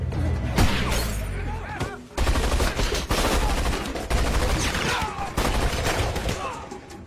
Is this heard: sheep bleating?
no